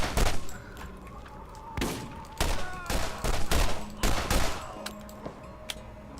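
Gunfire from Borderlands GOTY Enhanced played in VR comes in several sharp, loud bursts separated by short pauses, some quick single shots and some rapid strings.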